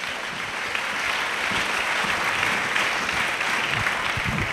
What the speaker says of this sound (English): A clap offering to Jesus.